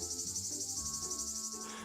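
Cicadas buzz, a steady high shrill drone held without a break, faint and distant, with no voices.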